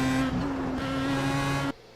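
Pro Mazda race car on the Nürburgring in iRacing, its engine note steady and loud before a quick downshift into third gear, then the sound cuts sharply to a quieter drone.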